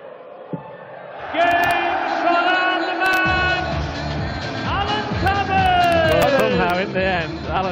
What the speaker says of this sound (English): the crowd are going to build up a crescendo of noise